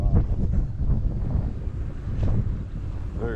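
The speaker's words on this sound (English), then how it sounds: "Very windy today," Steady wind rushes and buffets against the microphone outdoors on the coast at South Padre Island, a continuous low roar with gusty swells and no voices.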